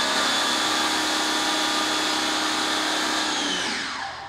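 A Chemical Guys Big Mouth foam cannon sprays somewhat watery car wash foam in a steady, loud, broadband hiss that holds for several seconds and then fades as the spray stops.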